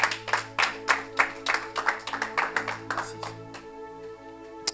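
A church congregation applauding, a brisk rhythmic run of hand claps with a sustained organ or keyboard chord underneath, tapering off toward the end.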